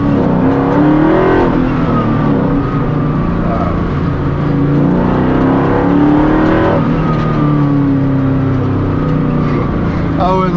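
A Ford Mustang GT500 Eleanor engine revs past 4000 rpm in several rising and falling surges, loud and close from inside the car, with someone talking over it.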